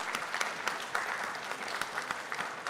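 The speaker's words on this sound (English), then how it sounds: "Please give a round of applause to all our teams." A quiz semifinal audience claps for the competing teams, a sustained even round of applause with scattered sharper claps standing out, moderately loud and without talk.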